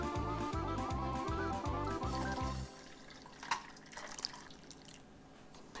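Boiling water poured over metal jar lids while roasted peppers are being jarred, a splashing trickle and drips that fade into quieter scattered drops, close by.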